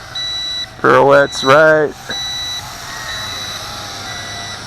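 A WLToys Q212G altitude-hold FPV drone emits a loud electronic beeping while performing pirouettes: two long harmonic tones close together, over a steady high whine, with someone talking nearby.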